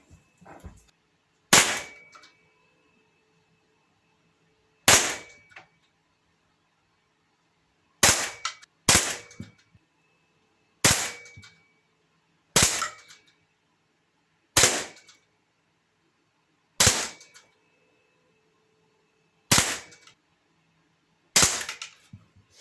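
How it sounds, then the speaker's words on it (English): A Sig Sauer M17 air pistol fires about ten sharp, close snapping shots at 6 meters with standard sights, spaced a second or two apart, with quiet between shots. "this is the first shooting using standard sights"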